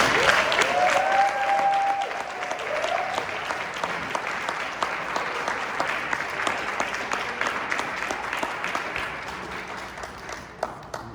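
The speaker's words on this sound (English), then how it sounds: "So let's give them a round of applause." A crowd gives a sustained round of applause, dense clapping filling the room steadily for about eleven seconds, loud and continuous with a slight fade near the end, honoring people standing up at a ceremony.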